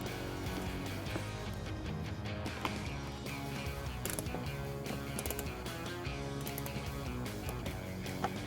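Rapid ratcheting clicks from a hand ratchet removing bolts under a 2018-2021 Hyundai Kona during trailer wiring harness installation, dense repeated mechanical ticking with occasional metallic clinks, fairly close.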